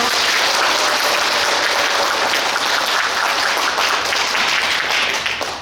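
A large church-hall audience at a parish workshop bursts into sustained, dense applause, loud and steady throughout with no speech over it.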